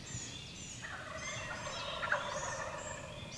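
Wild turkeys gobble on a cloudy morning in the woods, a few rolling calls at moderate distance over a steady hiss of outdoor ambience.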